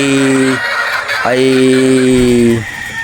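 Two long, loud nasal honking calls from gamefowl chickens at a game farm in Batangas, one after another with a short gap, close by and clear against a quiet background.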